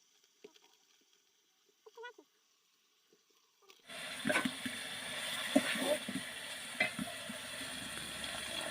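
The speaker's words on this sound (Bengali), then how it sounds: "মাংসটা ভালোভাবে কষানোর জন্য একটু পানি দিয়ে দিলাম।" Water splashes into a hot pan of beef cooked with biryani spice mix, followed by steady loud sizzling and bubbling with a few clinks, after some quiet handling sounds.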